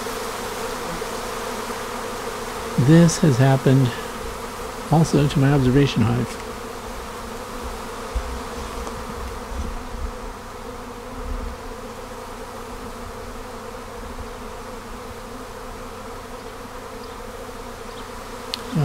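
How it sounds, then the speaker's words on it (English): A honey bee swarm pours back into the same hive it left, a steady dense buzzing drone that runs throughout, with a voice speaking briefly near the start over the hum. "they're going right back into the same hive they left. They're just pouring in there."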